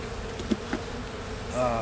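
Stressed honey bees from a mite-infested hive with foulbrood hum in a steady, close drone during an inspection, with a couple of brief knocks and a rising whine near the end.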